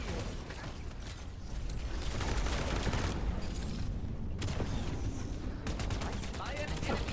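Ship turret gunfire in the space combat game Wildgate, rapid mechanical bursts and clattering volleys pounding continuously and loudly, with brief pauses between bursts.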